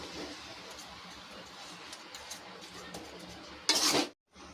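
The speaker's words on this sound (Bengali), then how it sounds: "নেড়ে চেড়ে গুড়টা মেশানো হয়েছে" Jaggery is stirred into mango pickle in a pan, with soft scraping and clinking of a spoon against the metal over a quiet simmer, then a brief louder clatter before silence.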